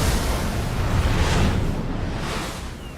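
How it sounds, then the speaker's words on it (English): A massive sea wave crashes down in one loud, sustained roaring surge, a broad rushing wash that swells and then slowly fades. "A massive wave rose and crashed down."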